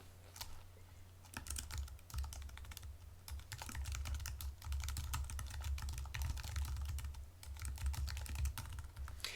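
Rapid typing on a computer keyboard, a steady stream of light clicking keystrokes close to the mic over a low, constant hum, with no talking.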